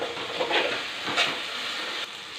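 Chana dal fries in a pan with tomato, ginger paste and curry leaves, giving a steady bright sizzle with a couple of louder bursts as it is stirred. The sound is close and continuous, with no talking.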